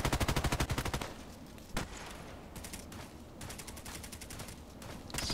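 Rapid automatic fire from an HK417 rifle in a video game, a fast dense burst of shots up front, then a lone shot and scattered quieter clatter and echoing sounds afterward.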